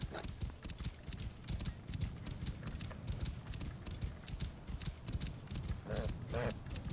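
Horse hooves clip-clop steadily in Assassin's Creed Origins, a rhythmic run of quiet thuds with a brief whinny near the end, heard beneath someone talking.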